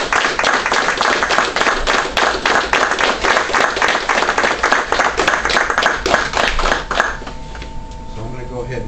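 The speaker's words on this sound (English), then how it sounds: "Round of applause for Pedro." A crowd at a Brazilian jiu-jitsu class claps in a sustained round of applause for about seven seconds, then the clapping stops and a quieter room with faint tones remains.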